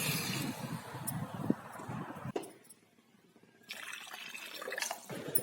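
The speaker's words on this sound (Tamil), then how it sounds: "இப்போ தேவைக்கேற்ப நம்ம தண்ணி ஊற்றி கொதிக்க வச்சுக்கலாம்" Water pours steadily into a pan of sautéed gooseberry for rasam, stops briefly, then resumes with a soft splashing rush, close and fairly quiet.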